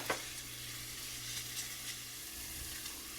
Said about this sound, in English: So a quick 30-second stir is all we're gonna get for this.